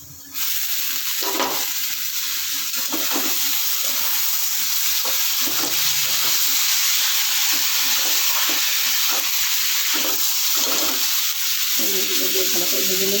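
Taro stolons fry in a pan with turmeric. A loud, constant hissing sizzle starts suddenly and holds steady, with scattered clatter and stirring knocks over it.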